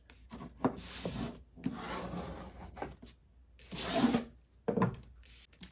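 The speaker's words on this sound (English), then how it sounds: "And go ahead and burnish." A paper file folder is burnished by hand, giving several close, dry rubbing and scraping strokes in short bursts separated by brief pauses, with no talking.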